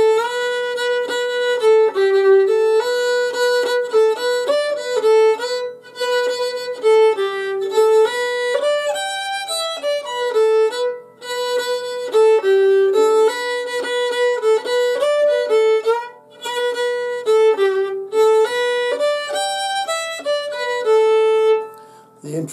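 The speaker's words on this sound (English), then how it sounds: "So the third part of the tune sounds like this." A fiddle plays the third part of the Irish tune The Butterfly, a clear, close solo line of rhythmic bowed notes moving steadily with brief pauses between phrases, with no voices over it.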